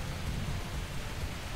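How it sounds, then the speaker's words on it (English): Rain falling during a racing video game as a car drives backwards along a complex track, a steady dense hiss with a low rumble underneath, even and continuous throughout with no voices. "Some rain all of a sudden as he drives backwards."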